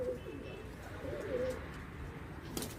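A green pigeon coos softly a few times nearby, low throaty notes over faint background noise, with a brief rustle near the end.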